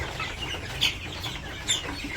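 Chickens cluck softly nearby in a couple of brief bursts while eating, over a steady hiss of falling rain.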